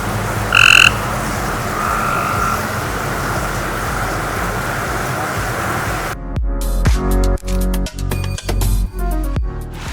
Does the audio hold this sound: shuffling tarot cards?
no